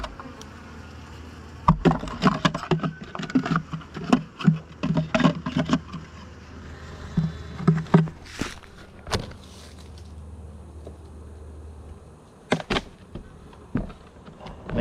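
Bees buzzing around a failing beehive that is being robbed out, with a faint insect hum and scattered close crackles and taps from handling the hive, alone with no talking.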